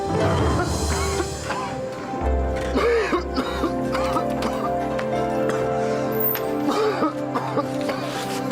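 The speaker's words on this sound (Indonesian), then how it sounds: "Dari kemarin kamu batuk terus." Several coughs burst out at intervals, close and rough, over a steady humming background with sustained tonal drones.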